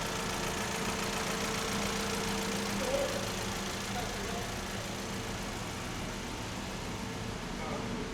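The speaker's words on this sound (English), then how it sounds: "I can already hear the difference in how much smoother the engine was running" A Honda CRX engine idles steadily with an even mechanical hum and faint knocking texture, running smoothly after a tuning adjustment.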